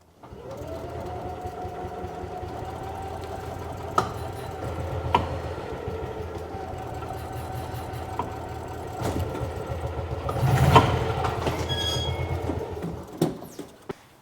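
Small single-cylinder engine of a 1986 Club Car DS gas golf cart converted to a UTV, starting and running at a steady idle with a rapid mechanical chatter, a brief revving surge near the end.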